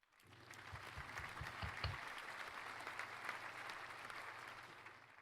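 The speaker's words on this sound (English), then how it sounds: "Can we please have a round of applause?" Applause from a conference audience honouring the Distinguished Paper Award winners, a steady wash of many hands clapping at moderate distance, fairly quiet, with a low hum running underneath.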